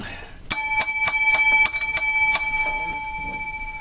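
A bicycle-style bell rings in a quick series of about eight bright metallic dings, loud and close, its ringing tone fading out after the last strike.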